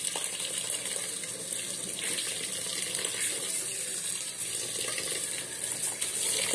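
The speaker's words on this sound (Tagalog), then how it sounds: "Una, hugasan nyo ang bigas." A kitchen tap runs steadily while rice is washed, a continuous close hiss of flowing water with faint splashing in the sink and no voices.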